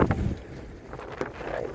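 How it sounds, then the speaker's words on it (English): Strong wind gusting outside a drafty building, a brief rushing, breathy roar heard from indoors that swells at the start and again near the end. "I don't know if you can hear that wind screaming outside"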